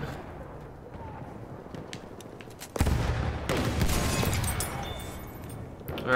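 Gunfire in the first-person shooter Battlefield 1 arrives as a sudden loud burst partway through and continues as dense, rumbling fire and explosions over a low, busy battlefield din.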